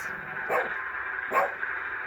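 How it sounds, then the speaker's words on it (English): Two short barks from a dog, spaced about a second apart, fairly close, over a steady background hum. "Dixie, what are you even barking at?"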